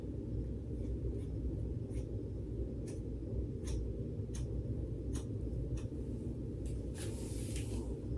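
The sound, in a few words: scissors cutting hair layers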